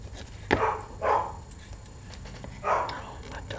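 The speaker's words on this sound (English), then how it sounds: "So they find anything to bark at." Several dogs barking indoors near dinner time, with three or four separate barks spaced out across a few seconds, moderately loud at middle distance over a low background hum.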